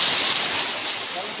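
Steady rain pours down at Kedabuhan in a dense, continuous hiss, loud and close, with no breaks.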